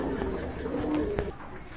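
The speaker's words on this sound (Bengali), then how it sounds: "আর এখানে কিন্তু খুবই সুন্দর কোয়ালিটি সম্পন্ন কবুতর দেখতে পারতেছেন" Pigeons coo softly in a pigeon farm sale pen, a few low murmuring calls blending with shuffling and background noise.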